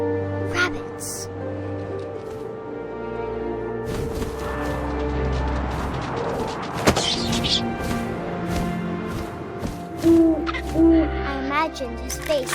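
Owl hooting from the video game What Remains of Edith Finch, a couple of low hoots late in the passage amid wind, swelling orchestral game music and a sharp impact.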